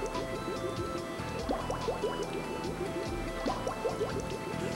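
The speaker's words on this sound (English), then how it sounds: "When mix stops bubbling down into the freezing cylinder" Soft-serve mix bubbles and gurgles down into the freezing cylinder of a Taylor C708 machine, a steady run of wet glugs and drips over a constant mechanical hum.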